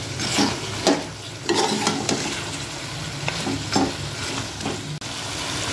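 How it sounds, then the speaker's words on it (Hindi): Chicken feet roast with spices in a pan, a steady close sizzle broken by repeated scraping strokes of stirring. "पहले इन्हीं की अच्छी तरह भुनाई करें ताकि यकजा हो जाए।"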